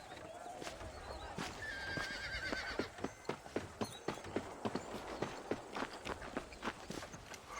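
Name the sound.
horse hooves walking, from a video game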